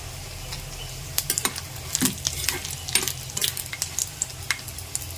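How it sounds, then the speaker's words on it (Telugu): Dried red chillies fry in a pan for a mango pickle, giving a steady low sizzle with sharp scraping stir strokes that come in bursts through the middle of the clip. No one speaks. "ఎండుమిర్చి చక్కగా ఈ రకంగా వేపాం కదా"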